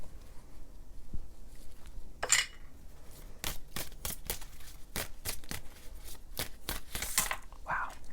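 Tarot cards are shuffled close up in a string of crisp riffles and slaps, some quick and bunched, others spaced out, over a quiet background.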